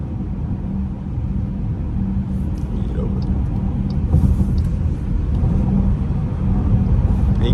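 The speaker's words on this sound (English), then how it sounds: "Just giving you guys a nice night POV drive of the car" A 2023 Jeep Grand Cherokee Overland cruises at night, its steady low road rumble and engine drone heard from inside the cabin, continuous and even throughout.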